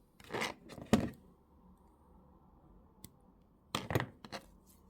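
Wire is snipped and handled while a wire wrap ring is being made, with two bursts of close, crisp clipping and rustling, a lone tick in between, then another pair of cutting crunches in a quiet room.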